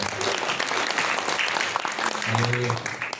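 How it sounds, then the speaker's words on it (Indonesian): Dense clapping from a church congregation at a Pentecost Sunday service fills the room, steady and loud, with a few voices and faint music tones rising near the end. "Tepuk tangan buat Tuhan yang dahsyat."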